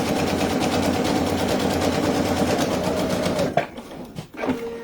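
Sewing machine stitching a pocket into a fabric bag, a steady rapid mechanical chatter close up for several seconds, then stopping with a few short bursts and clicks.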